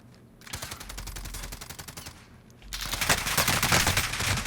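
Rapid automatic gunfire crackles in a Warzone match. A steady burst of shots runs into a brief pause, then a louder, denser stream of fire follows.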